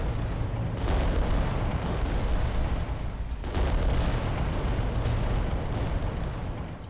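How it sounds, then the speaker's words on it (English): Volcano cannons firing on Titans in Adeptus Titanicus: Dominus, heavy booming blasts with two strong surges over a continuous loud rumbling roar. "The volcano cannons."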